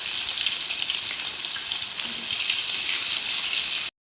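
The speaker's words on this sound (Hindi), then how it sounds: "देखिए माशाल्लाह से ये फ्राई हो रहे हैं" Fish kofta fry in hot mustard oil over a medium flame, giving a steady, close hiss of bubbling and sizzling that holds evenly for a few seconds before cutting off.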